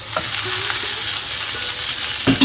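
Noodles tossed into a hot pan and stirred, a continuous close sizzle with scraping and clinking of the utensil, ending in a couple of louder knocks.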